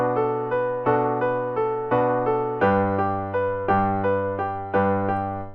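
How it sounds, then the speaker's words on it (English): A keyboard-style pitched instrument plays a repeating clave pattern in a pop ballad arrangement, with sharp evenly accented chord hits, three-three-two style groupings and sustained tones ringing between strikes, moderately loud and alone. "that rhythm of like bam, bam, bam, bam, bam, bam, that's called a clavis rhythm"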